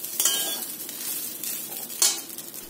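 Fish oil frying in a pan while being stirred, with a steady close sizzle and two louder scrapes of the spoon partway through and near the end, no voices.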